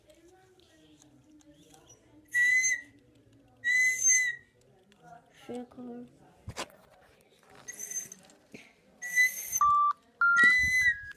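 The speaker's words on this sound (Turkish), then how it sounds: "Şimdi düdüğümüzü hemen çalalım." A shrill toy whistle blown in five short, loud blasts spaced across the clip, with a person talking briefly in Turkish in the gaps.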